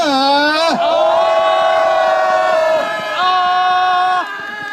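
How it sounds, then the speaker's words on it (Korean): A large crowd at an outdoor New Year sunrise event on Bonghwasan mountain lets out a sustained tonal shout for about five seconds, a loud collective roar that dips briefly before carrying on. "다시 한번 함성 5초간 발사"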